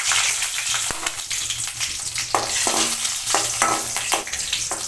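Dried red chillies frying in hot oil in a pan for a traditional South Indian chutney, a steady close sizzle broken by intermittent scraping stirs and light clinks, with no voices.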